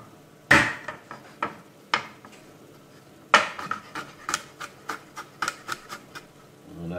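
Garlic cloves for a bœuf bourguignon are crushed with a series of sharp, close knocks and taps on a kitchen surface, irregular at first, then quicker and lighter toward the end.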